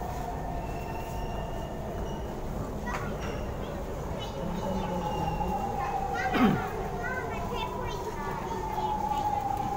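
A train in Singapore bound for City Hall rumbles steadily with a high metallic whine, wheels squealing briefly, and faint voices in the background.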